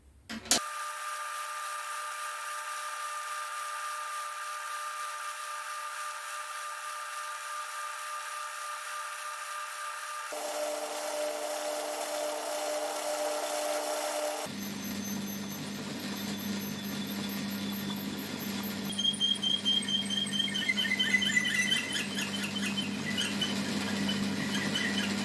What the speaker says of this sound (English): Now what I'm going to do is machine this surface all the way to the edge